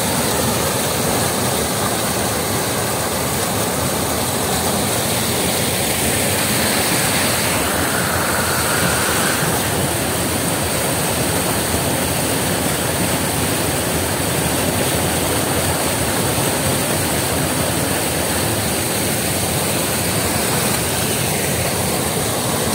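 Water pouring steadily at a waterfall in Shazdeh Garden, a historic Persian garden, forming a continuous broadband rushing roar that stays level and close throughout, with no voices.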